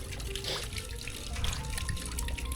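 Water running steadily and close for a fish tank, a continuous rushing, splashing stream heard alone with no voices.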